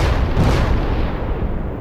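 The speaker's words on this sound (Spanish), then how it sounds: "ocurrió una cadena extensa de explosiones a lo largo de toda la caverna" A dense, continuous rumble of explosions rolling through a cavern, deep booming bursts overlapping into a heavy roar throughout, loud and close with no voices.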